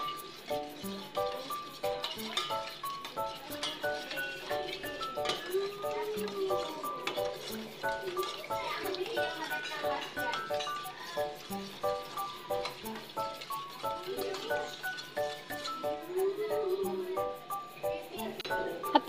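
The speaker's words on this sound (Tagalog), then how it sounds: "Isinunod ko na rito ang bawang at ang sibuyas at ihalo ulit natin para" Garlic and onion being stirred into a cooking pan for pickled radish, with soft, rhythmic scraping and clinking of a utensil over a faint sizzle, close and fairly quiet throughout.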